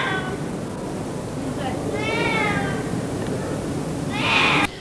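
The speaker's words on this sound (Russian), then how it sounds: "орал кот Снежок страшным нечеловеческим голосом" A white cat stuck high in a large tree yowls twice: a drawn-out, wavering cry and then a sharper, louder wail near the end, over steady outdoor noise.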